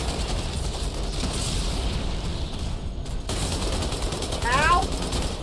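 Rapid turret gunfire in Halo 2, a dense continuous mechanical rattle heard up close, with a brief gap partway through and a voice talking over it.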